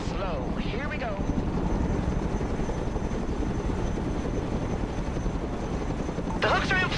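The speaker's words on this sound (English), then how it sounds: "Chinook, reporting in. Low and slow." A Chinook helicopter in the strategy video game Broken Arrow flies low and slow, its steady, dense rotor drone filling the whole stretch, while brief voice chatter breaks in at the start and again near the end.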